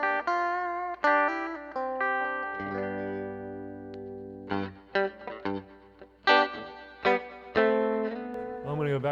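Electric guitar played through a Two Notes Revolt into a Silver 77 Fender-style 2x12 cabinet, ringing sustained chords and single notes with chorus-like shimmer, then choppier strummed stabs in the second half, loud and up close with no talk.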